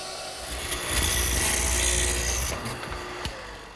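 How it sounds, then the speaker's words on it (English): A router with a 1/4-inch roundover bit whines and rasps as it rounds over a mesquite bookcase top edge, a sustained close cutting noise lasting a few seconds. "Easing the edges of my top, just using a portion of a 1/4-inch rounding over bit."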